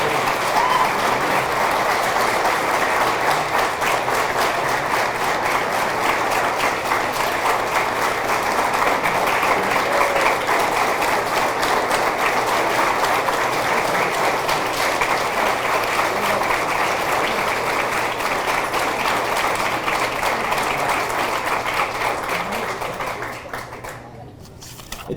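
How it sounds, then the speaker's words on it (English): Sustained applause fills a school gym for a high school athletic Hall of Fame class of 2022 induction, steady dense clapping from a large audience that runs without a break and fades out near the end. "Let's give all of our athletes and contributors a big round of applause"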